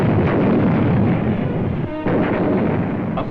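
Artillery guns shelling Beveland from positions across the Scheldt in 1944, heard as a dense, continuous roar of booming fire with a sharper burst near the middle, loud throughout.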